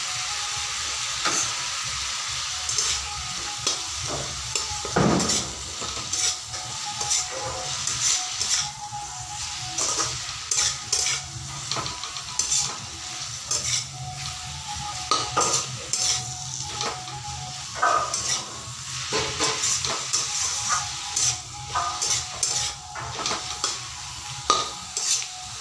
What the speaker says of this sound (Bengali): রসুন আর লঙ্কার পেস্ট দেওয়ার পরে আমি খুব ভালো করে ভেজে নিয়েছি যাতে কাঁচা গন্ধটা চলে যায়।